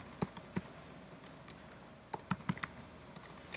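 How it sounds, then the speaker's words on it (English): Computer keyboard typing while coding in Ruby, scattered sharp key clicks in uneven bursts with a short pause in the middle, close and fairly quiet with no talking. "Sorry, my typing's atrocious right now."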